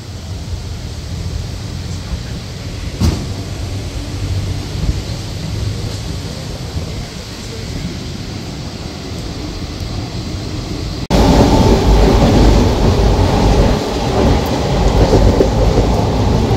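A local train pulls out of platform 4 at Bagnan station, Kolkata to Digha line, in heavy rain; a steady rumble of wheels and rain noise grows louder and broader partway through as the train gathers motion.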